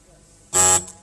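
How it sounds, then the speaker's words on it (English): A single short electronic quiz show buzzer sounds abruptly, loud and sustained for about a quarter second against a quiet background. "Fingers on the buzzers, please."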